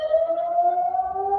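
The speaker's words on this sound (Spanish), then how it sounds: "donde ahora mismo están sonando las sirenas antiaéreas" An air raid siren sounding in Tel Aviv, one steady sustained wail held at an even pitch and loudness throughout.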